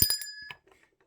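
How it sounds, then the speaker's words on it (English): A small bell is struck once and rings with a bright metallic ping that decays quickly, close and clear, with no other sound around it. "I'm ringing the bell for that."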